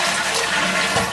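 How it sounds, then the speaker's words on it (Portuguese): A dual-flush toilet in a water-saving home rushes with a steady, loud wash of flowing water, close by and without talk. "O vaso, aliás, tem um mecanismo duplo de descarga."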